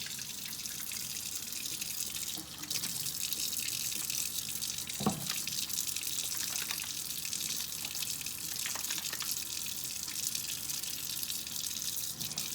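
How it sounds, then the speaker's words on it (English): Water runs steadily from a tap over wet hands and handmade soap during lather testing, a constant close hiss and splash with a brief louder splash near the middle. "So I'm going to run it under the water"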